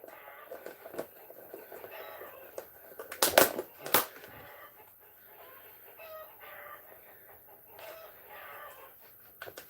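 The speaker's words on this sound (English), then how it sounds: "the roosters are calling all their hens" Roosters call to their hens at nightfall as the flock gets ready to go in, with scattered clucks and calls, two sharp, loud bursts near the middle and faint murmuring in the background.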